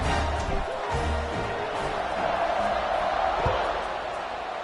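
A stadium crowd roars steadily in an NCAA Football 26 video game before a kickoff, a dense, continuous wash of cheering with a few sharp thumps.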